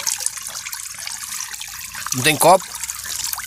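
Cold mountain spring water trickles and splashes steadily close by, with a voice briefly speaking over it.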